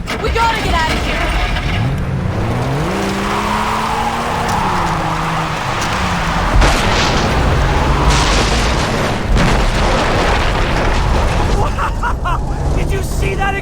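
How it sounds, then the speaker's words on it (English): A Far Cry 3 game scene with a loud explosion: sustained booming roar and rumbling debris over an engine, under panicked character voices shouting. "Did you see that explosion?"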